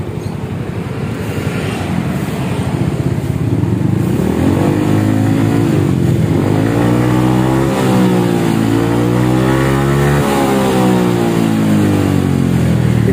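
A Yamaha XMAX 250 scooter on its stock exhaust revs hard toward 8000 rpm. The engine note climbs and falls in loud, close swells over a steady idle rumble, with no talking.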